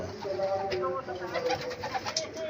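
Pigeons coo softly nearby, overlapping low murmuring calls with light rustling in the background.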